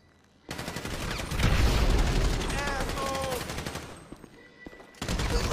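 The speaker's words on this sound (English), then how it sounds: "So I guess we're shooting our way out of here." Video game gunfire in GTA 5: sustained bursts of automatic shooting and rapid shots fill the scene, loud and dense, easing briefly near the end before resuming, with voices shouting over the action.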